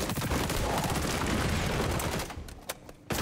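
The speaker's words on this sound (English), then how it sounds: "Grenades away." A dense roar of grenade blasts and rapid gunfire in the shooter game XDefiant, loud and continuous, easing into scattered sharp shots toward the end.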